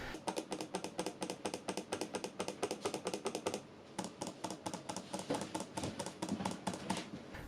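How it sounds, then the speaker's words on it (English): Rapid repeated clicks from the buttons of a VicTsing D-09 wireless mouse, a dense even series of crisp close taps with a brief pause midway before clicking resumes. "you've got some clicky buttons. Those are rated for around about 5 million clicks"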